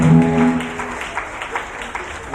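A church congregation applauds, a scattered patter of clapping that swells and fades over a couple of seconds, with a brief voice at the very start.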